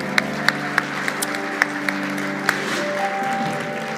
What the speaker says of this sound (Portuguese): Bastante palmas para ele.